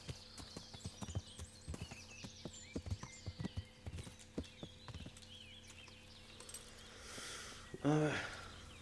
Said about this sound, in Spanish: Bueno, este caballo es Dios.